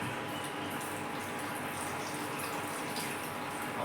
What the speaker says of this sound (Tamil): நான் இன்னும் கொஞ்சம் தண்ணி ஊற்றிக்கிறேன்